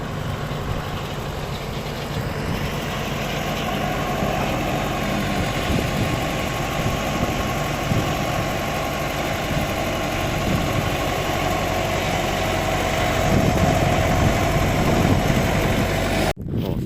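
A tractor engine idles with a steady low rumble and vibration in a potato field, close by and unchanging for the whole stretch, with no voices.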